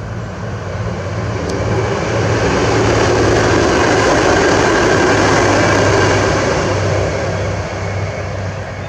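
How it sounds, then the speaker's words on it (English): A passing train near a park trail rumbles as a steady, loud roar. It builds over a few seconds, holds broad and even through the middle, then begins to ease off slightly. No voices are heard. "there's a train coming."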